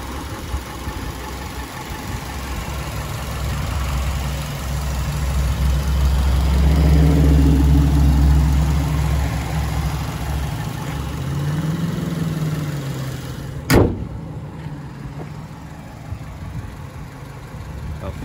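A 2012 Subaru Outback's 2.5-liter four-cylinder engine idles steadily with a low, even rumble, swelling slightly midway, and a sharp click or thump near the end.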